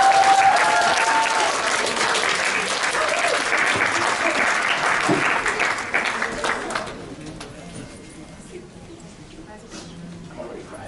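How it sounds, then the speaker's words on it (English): Applause from a school audience for a senior speaker at an academy event, loud and dense at first, then thinning into scattered claps and fading to quiet near the end. "please give us a round of applause for Taygen Richards from Public Academy."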